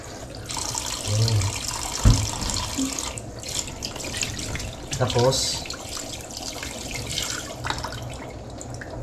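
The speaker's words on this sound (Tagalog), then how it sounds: "Lagyan ko lang ng konting" Water pours and splashes as it is added to a clay pot holding about a kilo of fish, a steady wash of running liquid with a brief clunk near the middle, while someone talks over it.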